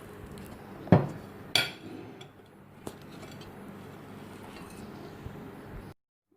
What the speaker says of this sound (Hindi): छुरी से नहीं काट रहा था, इसलिए मैंने कटर का यूज़ कर रही हूँ।